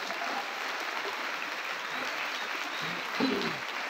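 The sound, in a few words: audience applause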